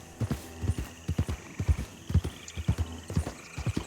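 Horse hooves clop in a steady, quick rhythm close by in Red Dead Redemption 2, a brisk trotting gait with a faint whinny-like tone in the background.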